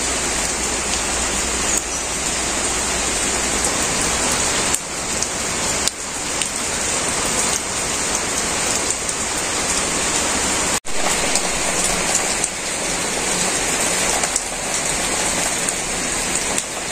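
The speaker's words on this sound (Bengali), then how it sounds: "আবার আজকে বৃষ্টি নেমে পড়ছে" Steady rain pours down outdoors in a Bengali household setting, a dense even wash of falling drops that carries on without pause for the whole stretch, close and fairly loud, with no voices.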